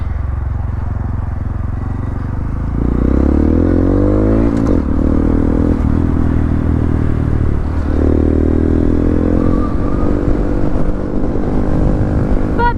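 A Honda Grom motorcycle on a ride gives a steady loud engine drone with rising and falling revs and wind rumble, heard close from the rider's position and without any talking.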